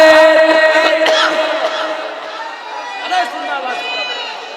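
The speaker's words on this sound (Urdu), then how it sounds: "نعرے" A crowd at a religious gathering chants slogans in unison, loud and close, with several long sustained shouted phrases rising and falling together over about four seconds.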